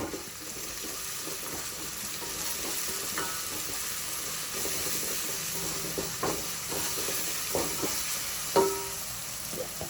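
Chicken with turmeric being stirred in a frying pan for country chicken pulusu, a steady sizzle with soft scraping strokes and a sharper clink near the end.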